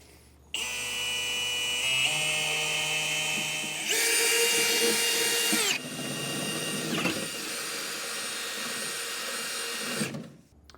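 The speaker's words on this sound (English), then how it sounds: "I'm going to start out with an 1/8 inch drill bit." A power drill with an 1/8 inch bit whines steadily, its pitch shifting as it bites into the steel frame of a 2017 Toyota Tundra truck, loud and near, then stops abruptly.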